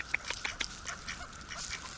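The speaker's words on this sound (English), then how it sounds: "Silly little ducks." Ducks at a lake give several short, nasal quacks in quick succession, close by but fairly faint, over a soft outdoor background.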